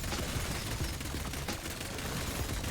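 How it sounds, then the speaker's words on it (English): FFAR rifle in Black Ops 6 Zombies firing in rapid bursts, dense crackling shots with a constant background roar and repeated sharp peaks, moderately loud throughout. "let's burst fire this thing and see"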